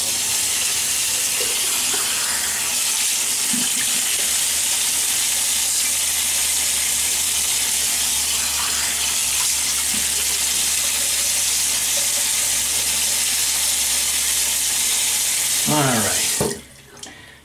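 Water runs steadily from a tap to wet the face before a shave, a constant loud rush that continues unbroken and then cuts off near the end.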